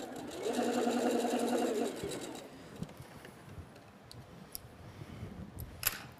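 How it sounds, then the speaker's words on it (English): A sewing machine top stitches a quarter-inch seam on a small fabric face mask, a fast even whirring run for about two seconds, followed by soft handling clicks and rustles. "I'm just going to top stitch at 1/4 inch and then do the same on the other side."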